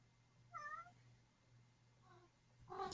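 A cat meows softly a few times, quiet and close, with short pauses between calls over a low background hum.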